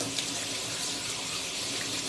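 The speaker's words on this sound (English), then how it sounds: "I need to rinse my hands off" Steady hiss of tap water running into a sink as hands are rinsed, continuous and fairly close, with no talking.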